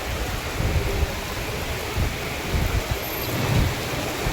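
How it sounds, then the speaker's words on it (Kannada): Heavy rain pours down in Devanahalli near the airport, a dense, steady hiss with low rumbling beneath, loud and close with no voices. "ಇಲ್ಲಿ ನೋಡಿದ್ರೆ ಫುಲ್ ಮಳೆ ಬರ್ತಾಯಿದೆ ನೋಡಿ."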